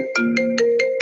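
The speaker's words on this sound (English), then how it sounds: "there's one of the Apple ringtones that I can't listen to anymore for the same reason" A short Apple phone ringtone melody, bright synthetic tones pulsing in a quick repeating rhythm, loud and close.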